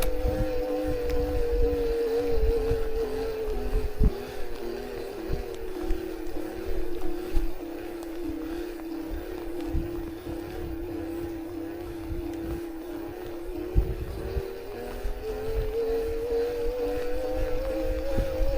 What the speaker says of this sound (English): So as you can tell, the motor is very quiet. Any noise that is coming from it, in terms of frequency, it's on the lower end.